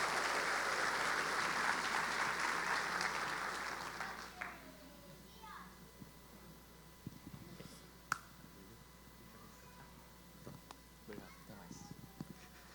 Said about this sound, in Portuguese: Você pode dar um aplauso ao Senhor por isso?